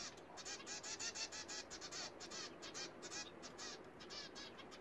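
Baby zebra finches in an aviary give rapid, repeated high-pitched begging chirps to a parent, a busy, fairly faint stream of short peeps with no voices.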